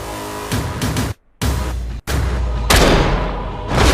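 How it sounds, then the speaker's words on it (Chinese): A high-explosive round fired from a C14 Timberwolf sniper rifle detonates in a film scene: loud, dense, sustained blast and rumble filling the clip, broken by brief silent cuts, then continuing with heavy roaring debris. "接着打响了第3枪。"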